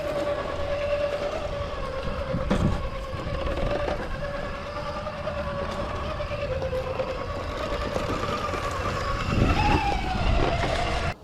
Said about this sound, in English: it's really helping the Pro crawl through some of these rock obstacles